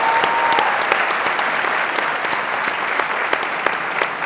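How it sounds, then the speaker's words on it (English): Dense, loud applause from a crowded forum audience of young African leaders and Mandela Fellows, steady and continuous with scattered sharp claps throughout. "I think that deserves a round of applause."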